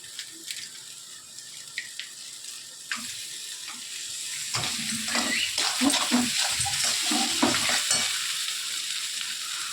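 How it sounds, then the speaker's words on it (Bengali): Fish heads fry in a pot for a Bengali muri ghonto, with faint stirring and light sizzling that swells into louder, bubbling frying and spattering once water is poured in. "এবার মাছের মাথাগুলো দিয়ে দেবে, দিয়ে জল দিয়ে দেবে।"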